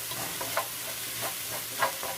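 Chopped mushrooms and vegetables water-fry in a pan with no oil, giving a steady close sizzle broken by a few scraping stirs.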